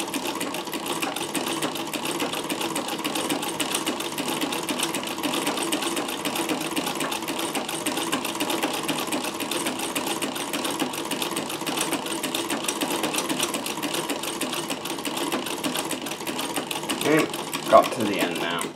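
A Davis sewing machine fitted with a vertical feed scallop plaiter attachment stitches ribbon, giving a steady, continuous mechanical whir and rapid needle clatter throughout. A brief louder knock comes near the end.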